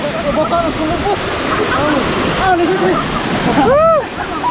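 Balea Falls waterfall in Negros Occidental, Philippines, a steady loud roar of rushing water close by, with people shouting and chattering over it throughout.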